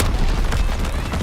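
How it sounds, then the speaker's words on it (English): Artillery strike explosions rumble in Call of Duty WW2 on the Shipment 1944 map, heavy overlapping booms forming a loud, continuous low-end barrage. "So the artillery strike's kind of going ham right there."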